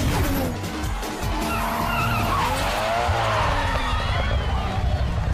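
A sports car in GTA 5 Online roars at high revs while its tires skid and squeal loudly and continuously, with the engine note shifting through the whole stretch.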